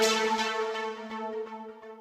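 A sustained synth tone with bright harmonics, pulsing softly in a steady rhythm, playing alone and fairly up front.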